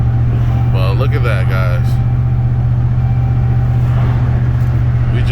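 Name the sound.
2009 Dodge Ram engine pulling one ton up a grade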